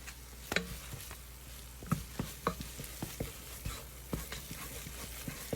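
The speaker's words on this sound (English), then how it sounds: "you're consistently stirring it, stirring all that out" Food being stirred in a pot while cooking at home, a scraping, sizzling clatter of spoon strokes repeating at a steady, irregular rhythm close by, with no talking.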